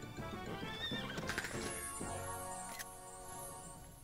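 A horse whinnies loudly in the video game Miitopia, a high wavering neigh with a snort and a few hoof clops, close and alone with no voices.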